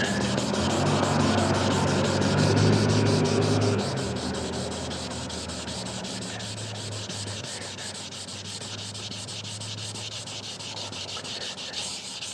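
Steady abrasive sanding of paint on a Harley-Davidson Dyna fender, close and continuous for about twelve seconds, louder at first and then settling into a slightly softer, even rub with no talking.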